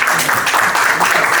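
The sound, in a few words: applause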